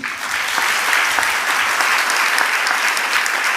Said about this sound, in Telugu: చప్పట్లు కొడతావు ఒకసారి